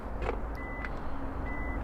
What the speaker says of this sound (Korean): 이렇게 알람이 울리면서